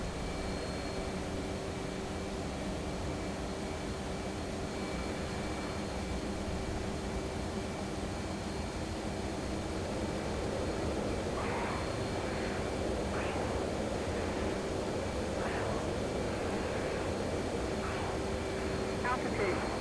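An F/A-18 Hornet jet in DCS World pulling hard maneuvers, a steady loud broadband engine and air roar with faint tonal whines running throughout, under no speech.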